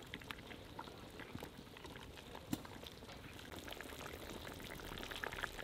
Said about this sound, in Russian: В течение 40 минут нам нужно поддерживать вот такое слабое кипение